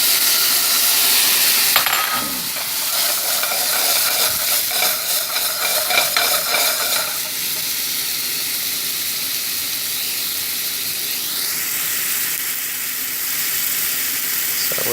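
Quinoa grains sizzle and crackle as they toast in a hot pan, a steady frying hiss with occasional scraping stirs, louder at first and settling to a softer sizzle.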